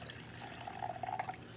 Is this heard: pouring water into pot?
yes